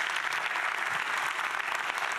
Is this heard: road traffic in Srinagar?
no